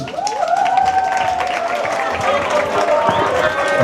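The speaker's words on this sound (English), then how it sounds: "Can you just please give him a round of applause?" An audience claps and cheers loudly at a school gathering, a dense wash of applause with whoops and shouting voices rising over it.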